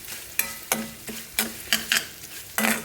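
A paste of fresh coconut and green chilies fries in a pan, with a soft sizzle under repeated sharp scraping stirs of a spatula, about seven strokes in quick succession.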